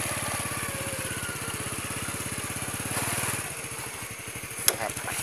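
A small vehicle engine idles with a fast, even putter, close and steady, then drops to a slower, rougher chug as it winds down toward being switched off, with a sharp click near the end.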